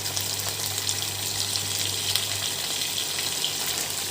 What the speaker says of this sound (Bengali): এবার আমি ঠান্ডা জলে যে চুবিয়ে রেখেছিলাম আলুগুলো, সেই আলুগুলোকে এখানে দিয়ে দেবো।